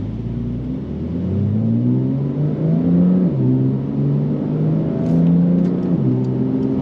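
Modded 700 hp 2025 Porsche 911 Turbo S driving in Sport Plus mode, its engine a steady loud rising and falling drone with gear-change dips, heard from inside the cabin without talk.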